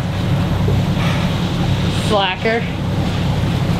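Strong wind at sea roars across the microphone in a steady, loud rush, with someone briefly speaking in the middle.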